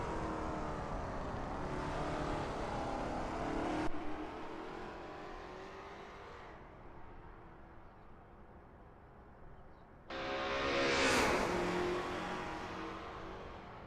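Lola T70 MkII Spyder race cars warming up at Brands Hatch GP circuit, engines droning and revving with a car passing close by near the end, loud and continuous with no talk.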